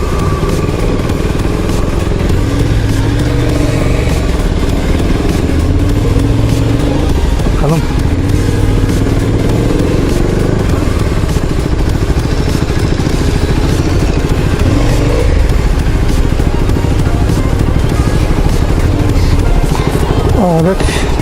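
KTM RC250 motorcycle engine on a test ride, a steady mid-pitched drone with occasional rises in revs and wind rush, heard up close under someone speaking.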